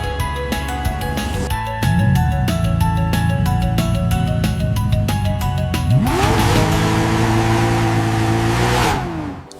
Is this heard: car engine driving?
yes